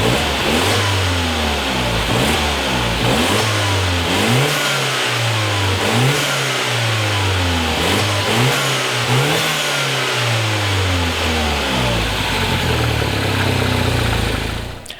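A Mini with a newly fitted front mount intercooler and silicone piping revs hard again and again up close, its engine note climbing and dropping in repeated loud pulls for about fifteen seconds.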